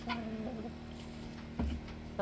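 Rooster on an off-grid Florida homestead clucking in a low, broken series of calls, moderately near, with a couple of louder clucks and soft background noise.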